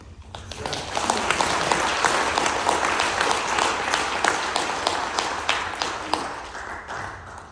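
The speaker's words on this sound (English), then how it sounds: "an applause from all of you" A crowd at a breast cancer awareness event applauds at a steady, dense level for about seven seconds, with individual sharp claps standing out from the mass.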